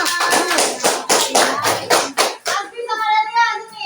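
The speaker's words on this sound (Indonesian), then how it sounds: "Oh, Jena tepuk tangan" Children in a classroom clap hands in a quick burst of sharp, rhythmic claps at close range, followed by a voice.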